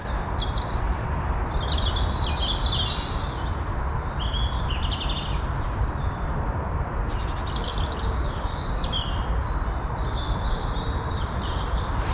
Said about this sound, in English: some enjoyable woodland bird song. I think we've got robins, we've got some crows.